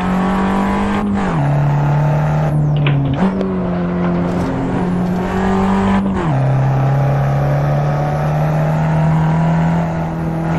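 A Fiat 500 Abarth engine drones loud and close in a racing game, its pitch stepping down with each downshift through several gear changes and then holding a steady hum.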